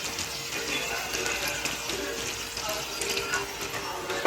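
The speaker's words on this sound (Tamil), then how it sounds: "நம்ம இன்னும் கொஞ்சோண்டு மறுபடியும் தண்ணி ஆட் பண்ணி அதை இன்னும் வைக்கும்." Water poured into a pan of fish cooking with lime in Thai steamed style, a steady broadband splashing and hissing that runs continuously and fairly close for the whole stretch, with no talking.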